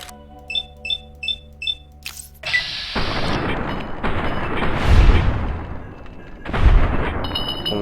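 Gunshots in Fallout New Vegas: after a run of short electronic beeps, a heavy blast sets off a long echoing roar, and a second booming shot follows near the end, loud and close.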